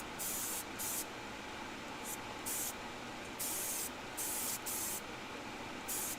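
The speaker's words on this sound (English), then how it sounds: "it actually sprays really nice paint." An airbrush spraying Timbertech paint gives a steady, close hiss, broken by short louder bursts as the trigger is pressed and released in an uneven rhythm.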